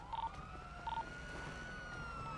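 Several police sirens wailing together at a distance in Grand Theft Auto, steady and overlapping, with short electronic beeps at the start.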